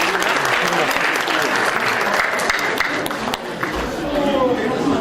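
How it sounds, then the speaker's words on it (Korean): A crowd at a university architecture department's 40th anniversary alumni gathering applauds loudly and steadily, dense clapping filling the whole stretch with a few scattered voices underneath. "큰 박수 부탁드리겠습니다."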